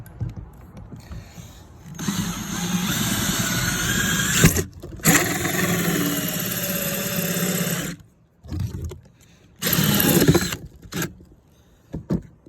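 A power tool cuts through plastic pipe for a quail feeder: a loud, steady mechanical whine runs for about six seconds, drops out briefly, then returns for a shorter burst, followed by a few quieter bumps.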